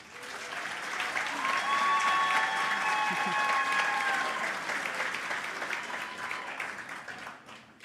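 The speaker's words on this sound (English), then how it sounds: "please give them a round of applause" Warm applause from the audience at an awards gala dinner swells quickly, holds strong and fairly even, then gradually thins out, with faint voices and whoops mixed into the clapping.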